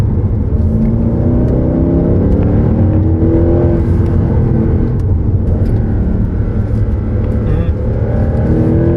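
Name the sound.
Mercedes AMG Black Series standard exhaust revving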